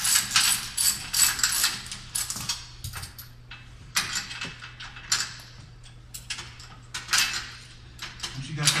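Metal tool working a set screw on the upper sprocket of a StairMaster SM916 StepMill, giving repeated ratcheting clicks and light metallic clatter in irregular bursts, close and moderately loud, with a steady low hum beneath.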